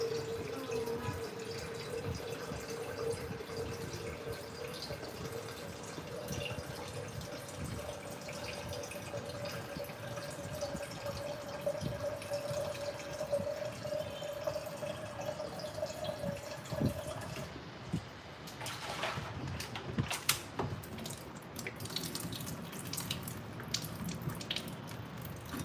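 Water runs steadily from a kitchen tap while dinner cooks in a home in Da Nang, Vietnam, a continuous filling tone that breaks into splashing and clatter near the end.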